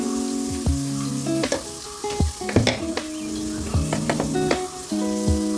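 Ginger fries in a pan for an Indian ginger curry, a bright sizzle broken by clinks and scraping squeaks of the spoon against the pan.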